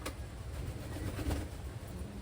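Wantai pigeons from Taiwan coo softly nearby, with low, faint murmurs set against a quiet background.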